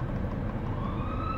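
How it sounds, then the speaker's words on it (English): Ambulance siren sound effect from an audio library, a loud sustained wail rising in pitch against a low rumbling background, brief and continuous. "Ambulance siren"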